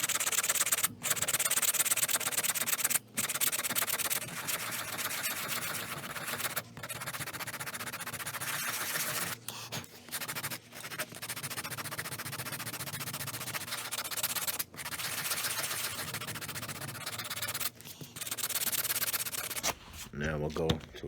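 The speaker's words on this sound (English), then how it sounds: "So now time to sand. Start with some coarse grit." Coarse-grit sandpaper rubs steadily across a guitar fretboard during a chip-out repair, a continuous close scratchy rasp with brief pauses between strokes.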